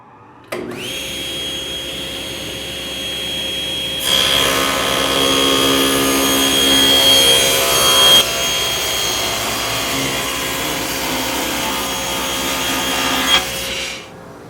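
Table saw guided by its fence ripping wood panels to length, the motor spinning up into a loud sustained whine with the blade biting in for roughly ten seconds, then winding down, close and alone.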